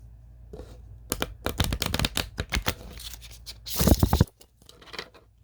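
Tarot cards being shuffled by hand, a rapid riffle of crisp snapping flicks building to a dense burst near the end, close up with no talking.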